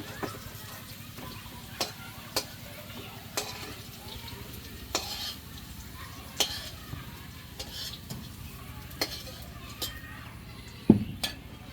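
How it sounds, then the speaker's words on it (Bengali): Potatoes frying in oil are stirred in a pot, giving a low, steady sizzle under regular sharp scrapes and clinks of the utensil roughly every second, close by. "আলুটাও সুন্দর করে ভেজে নিলাম এখন নামিয়ে নিব"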